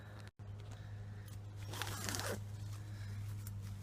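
A tent door zipper being drawn along its track, a close, brief scraping rasp around the middle of the clip over a steady low background hum.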